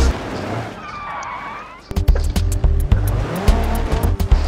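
Cars skid and squeal their tyres as they spin out in the driving game BeamNG, a whining engine tone giving way to loud bursts of tyre noise and clattering impacts, close and busy, with a voice talking at times.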